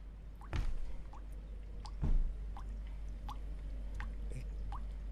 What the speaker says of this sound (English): I hear water dripping.